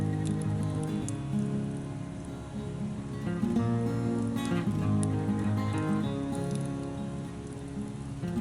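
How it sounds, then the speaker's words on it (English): Heavy Florida rain pours down steadily, a dense, continuous patter on surfaces heard close and unbroken, with no talk. "just poured about 2 inches of rain here in the past like 30 minutes"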